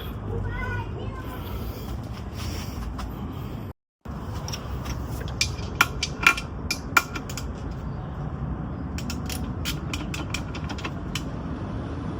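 Clutch bolt being tightened on a Honda CRX during a transmission install, with a run of ratcheting mechanical clicks and creaks over continuous background noise and voices.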